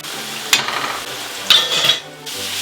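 Potatoes frying on high heat in a pan with garlic and butter, a continuous close sizzle broken by two sharp scraping stirs of a utensil against the pan.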